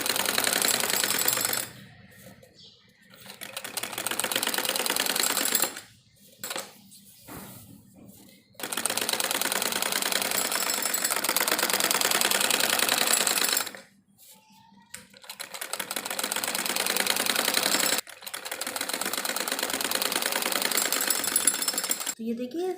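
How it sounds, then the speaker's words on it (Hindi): A sewing machine runs in several sustained bursts, stitching along the edge of salwar fabric, its fast, dense mechanical chatter stopping briefly between runs as the cloth is repositioned. "और अब दबी हुई सिलाई हम इसके ऊपर लगाएंगे।"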